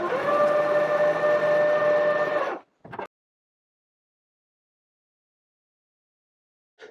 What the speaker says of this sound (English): And now I just need to hem that area over.